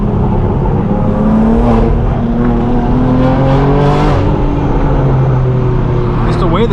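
A straight-piped BMW M4 G82 exhaust roars loudly as the car accelerates, the engine note climbing steadily through the gears from inside the cabin, with a voice briefly talking over it.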